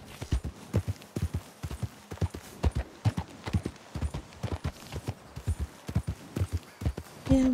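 Steady clip-clopping of horse hooves in the video game Red Dead Redemption 2, a brisk even rhythm close by, with a faint bit of talk and a short tone near the end.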